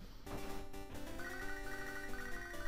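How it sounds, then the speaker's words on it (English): A phone rings in Pokémon Sacred Gold with a short, bright chiptune ringtone melody repeating its tones steadily, alone with no speech. "And we have a phone call."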